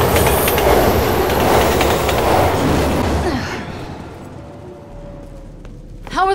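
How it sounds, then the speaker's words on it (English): A train rumbles loudly past with rattling wheels in the video game Resident Evil 6, then the noise fades away, leaving a faint squeal and a short sharp screech at the end. "How are the trains still running?"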